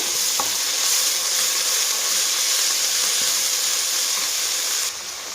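Chopped spinach fries in a pan with ginger-garlic paste, giving a loud, continuous close-up sizzle and hiss that stays steady and then drops slightly just before the end.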